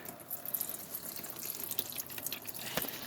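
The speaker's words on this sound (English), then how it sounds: "Running oil is gonna start dripping." Steady trickle of transmission oil from a 2008 Dodge Grand Caravan 3.3 L pan, with small drips and splashes, a faint continuous wet patter with occasional sharper drops, no voices.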